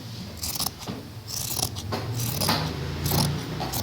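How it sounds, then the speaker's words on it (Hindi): Fabric is cut freehand with scissors to shape a small girl's winter dress, with repeated crisp snipping and crunching blade strokes in quick, uneven bursts, close up. "ये देखिए फ्री हैंड कटिंग मैं कर रही हूँ।"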